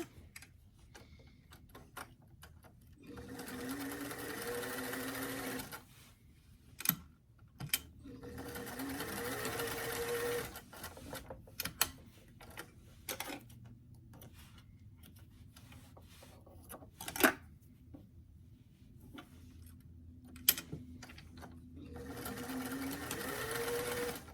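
A sewing machine stitches together the waistband and lining pieces of doll pants, running in three sustained bursts with short ticking pauses and small clicks between them, close and clear with no talking.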